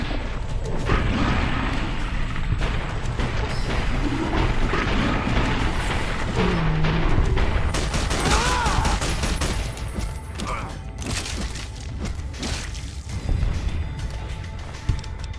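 Rapid bursts of marksman carbine fire in Fallout New Vegas, dense and continuous with crashes and impacts layered through a busy battle for the whole stretch.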